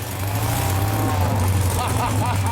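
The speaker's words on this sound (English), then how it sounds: "Larry is powered by an old 2CV engine" An old Citroën 2CV engine powering a scrap-metal robot dog chugs with a steady low idle, close and fairly loud, with a faint voice in the background.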